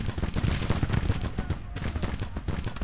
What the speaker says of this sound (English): anytime a unit's sighted, my artillery just lays into them